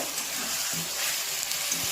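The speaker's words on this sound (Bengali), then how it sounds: "দিয়ে দেব চিকেন। এইভাবে আমি ভালো করে 20 মিনিটের মতো কষিয়ে নেব।" Chicken sautéing with whole onions in a pan, kosha style, gives a steady, even sizzle and hiss with soft stirring scrapes, continuous and moderately close without any talk.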